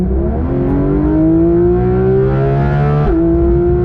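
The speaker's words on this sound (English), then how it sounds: "this car really yells" A car engine revs loudly and steadily, its pitch climbing over about three seconds before dropping sharply as it shifts, with no voices.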